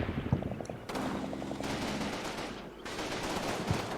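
An enemy machine gun squad fires in a World War II strategy game: rapid bursts of automatic gunfire with sharp rattling repeats, loud and fairly close, over dense continuous battle noise.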